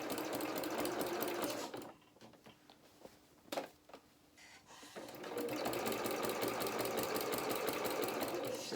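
A sewing machine stitches a doll's winter skating coat in steady, fast runs, stopping for a few seconds in the middle with small clicks and handling noises before starting up again.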